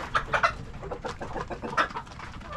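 Several backyard chickens cluck in short, irregular bursts close by, a busy run of bird calls with no talk over them.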